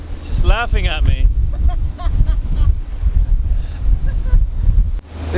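A boat with a 57 horsepower engine pushes through choppy archipelago waves at about seven knots, with a low engine drone, rushing water and heavy wind buffeting, under a person talking.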